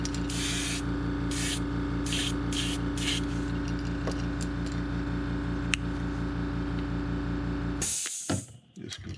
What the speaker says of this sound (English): This compressor just keeps kicking in.